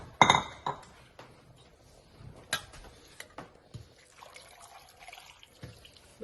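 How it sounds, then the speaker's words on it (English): Water being added to a pressure cooker holding chickpeas and potatoes: a sharp clink of cookware, then scattered soft splashes and light knocks, fairly quiet and close. "I think I will be adding some more water to this."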